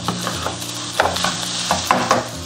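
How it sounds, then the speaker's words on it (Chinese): Mustard-green fried rice is stir-fried over high heat, with rhythmic stirring strokes and scrapes every half second or so over a steady, close sizzle. "继续开大火翻炒均匀"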